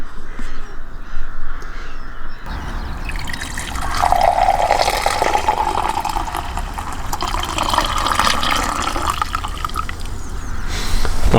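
Coffee poured from height into a cup outdoors at a winter car camp in the UK, a rising liquid trickle and gurgle that fills for several seconds, with crows cawing nearby.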